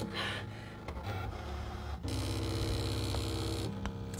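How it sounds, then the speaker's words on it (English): A Brother ScanNCut DX cutting machine with a vinyl Auto Blade runs close by, giving a steady mechanical hum and whir with shifting motor tones as the blade moves across the vinyl. "But now that vinyl Autoblade is just doing its thing."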